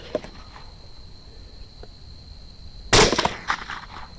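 A sharp gunshot burst during a feral hog shoot in North Texas, with one loud crack followed by a few quick shots trailing off in an outdoor setting, preceded by faint ambient noise.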